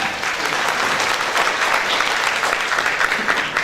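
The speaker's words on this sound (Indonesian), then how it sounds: "Tepuk tangan buat Sheran" An audience at a security conference in Indonesia bursts into applause for a participant, giving a loud, dense, even clatter of many hands clapping that holds steady from start to finish.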